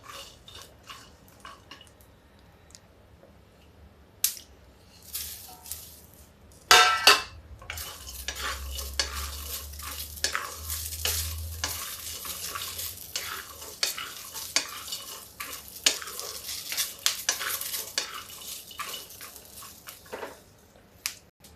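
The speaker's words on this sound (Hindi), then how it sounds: "ये मूंगफली के दानों के साथ डंठल सहित हमने मिर्च डाल दी है, ये भी इसी में भून जाएंगे।" Peanuts and whole chillies with stems roast in a pan: rattling, scraping stirs come in bursts over a faint low hum, with a sharp clatter partway through and no voices.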